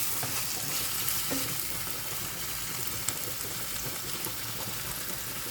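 Onions and lardons frying in a pan for carbonara, a steady dense sizzle with occasional stirring scrapes and small pops, close and constant, no one talking.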